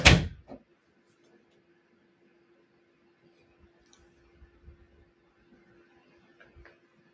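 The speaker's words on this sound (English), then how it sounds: "Can you close the door, please?" An indoor door swings shut with one sharp close thud at the start and a brief rattle just after, followed by near silence and faint small knocks.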